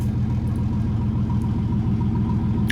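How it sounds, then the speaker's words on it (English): A modified car exhaust rumbles at idle, a deep, steady, throbbing burble with a V8-like low pulse, close and loud, with no talk over it. "Just the sound of the exhaust is gonna scare them off."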